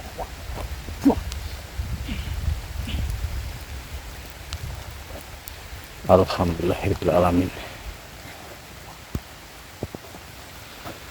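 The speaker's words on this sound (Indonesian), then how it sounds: "Malam ini diguyur hujan" Rain falls steadily at night as a soft, continuous hiss with scattered drip ticks, while a man recites a short prayer over it partway through.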